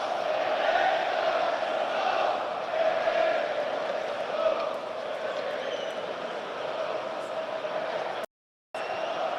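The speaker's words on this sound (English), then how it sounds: "And the crowd reply." A football crowd at a Sunderland AFC home match against Cardiff City sings back in unison, a dense, sustained mass of voices filling the stadium steadily for most of the stretch before a brief cut.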